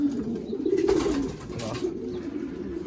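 Racing pigeons cooing in a loft, a low throaty rolling coo that swells and fades, close and continuous, with soft fluttering noise around it.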